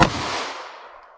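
A single sharp 9mm report from a 3.2 inch barrel firing an HST hollow point into ballistic gel, loud and close, with a sudden crack that rings out and decays over about a second.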